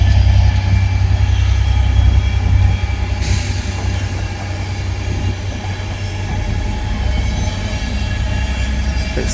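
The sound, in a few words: Transport for Wales train departing Ardwick Station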